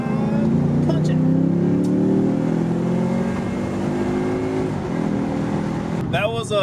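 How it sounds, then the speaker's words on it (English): A Lexus IS F with a Borla exhaust accelerates hard, its engine note rising and holding loud for several seconds, and a brief sharp sweep sounds near the end. "That was a Borla exhaust."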